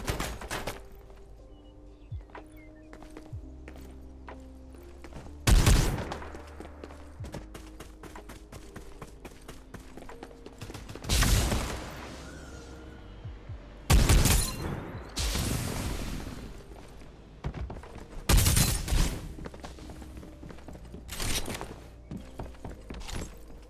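Gunfire in the battle royale shooter Farlight 84, several sharp loud bursts standing out at irregular intervals over a steady game soundtrack with clattering effects.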